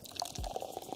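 Soda is poured in a brief, quiet burst of splashy liquid and light drips, close by with no voices.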